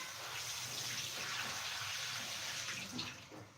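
Water runs steadily from a tap, a continuous broadband gush with slight splashing as chilies are washed under it, close and fairly loud with no talk.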